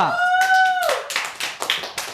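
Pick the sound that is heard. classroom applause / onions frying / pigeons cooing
classroom applause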